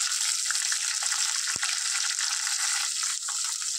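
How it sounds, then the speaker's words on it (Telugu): Chillies and onions frying in hot tempering oil for a tomato egg curry, a steady close sizzle and crackle throughout with one brief utensil tap, no voices. "వీటిని చక్కగా ఫ్రై చేసుకుందాం."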